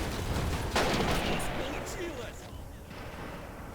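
A tank cannon fires in the Men of War Assault Squad 2 video game, a single sharp boom followed by a fading rumble within the game's battle sound.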